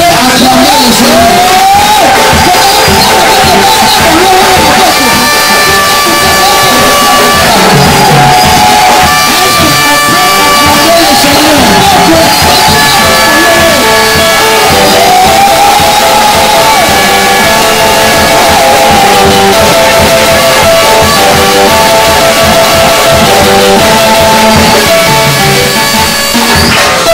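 Church congregation at a prophetic worship service cheering and acclaiming the Lord, a loud, sustained wash of crowd shouts and whoops layered over music with sung or held tones throughout.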